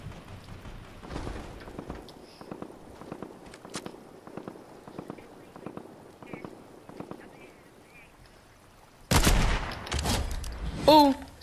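Sniper rifle shots in the game Fortnite: sparse, sharp cracks and scattered footstep-like taps over quiet stretches, then a loud sudden blast near the end.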